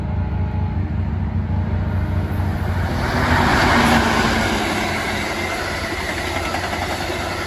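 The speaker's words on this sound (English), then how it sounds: "Amtrak 186 passes VRE 309 at Spotsylvania." An Amtrak passenger train passes a VRE commuter train at Spotsylvania station on the CSX RF&P line, a loud continuous rumble of wheels and engines that swells in the middle as the trains pass one another.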